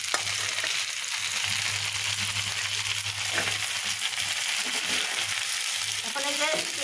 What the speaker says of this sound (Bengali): এবার একটা প্যানে তেল দিয়েছি পেঁয়াজ কুচি আর মরিচ কুচি